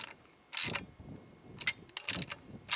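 Bolts are tightened on an M5 horn, short metallic ratcheting and clicking bursts in quick irregular groups, close and fairly quiet, with no talking.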